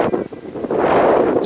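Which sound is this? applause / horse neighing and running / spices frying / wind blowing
wind blowing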